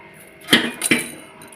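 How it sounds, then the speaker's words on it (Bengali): A kadai set back down on a stove, making two sharp metallic knocks close together, with quiet kitchen background around them. "তো কড়াইটাকে আবার বসিয়ে দিলাম"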